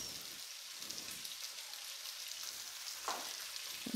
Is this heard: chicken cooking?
yes